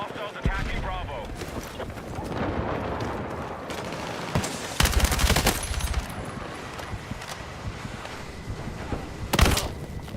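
Gunfire in a video game shooter, bursts of rapid shots and sharp single cracks scattered over ten seconds, loud against a busy battlefield background with a radio-style voice speaking at times.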